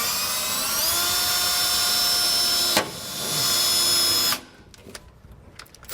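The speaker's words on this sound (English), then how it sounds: "So I'm gonna actually take a small drill bit, 1/4 inch or whatever size is fine" A power drill with a small 1/4 inch bit boring a pilot hole through a truck bed for an underbed fifth wheel hitch, a loud high whine that holds steady, breaks briefly, resumes, then cuts off.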